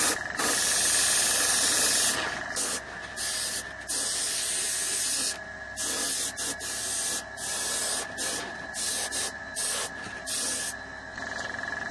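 An airbrush sprays paint onto a model of a ruined building. The close, loud hiss comes in long bursts broken by short pauses as the trigger is released and pressed again.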